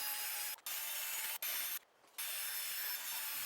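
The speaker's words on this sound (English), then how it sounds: "We sanded away all the rust." Rusty metal frame of a Sprinter van captain's chair being sanded, a dry, steady rasping scrub heard close, broken by brief pauses and one longer gap.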